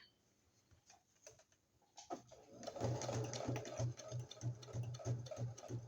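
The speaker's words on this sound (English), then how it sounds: "And I'm back stitching." A sewing machine back stitches through thick junk journal cover material, first a few faint ticks, then a loud, rapid run of evenly pulsed stitching close by, with no talking.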